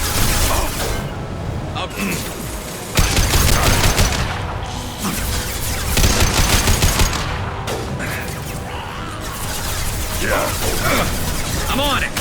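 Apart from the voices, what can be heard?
heavy gunfire in Mass Effect 2 video game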